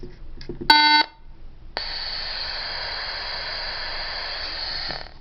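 A Motorola CP200 two-way radio gives a short beep, then after a brief pause emits a steady, even hiss of open static for several seconds, like a keyed channel with no voice, before cutting off.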